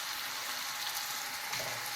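Meatballs browning in a pan over a low flame give off a soft, steady sizzle, faint and even throughout with a slight swell near the end.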